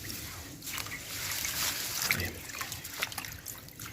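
Freshly harvested lemongrass is rinsed under water, giving a soft, close trickling and splashing that rises and falls irregularly, with no speech.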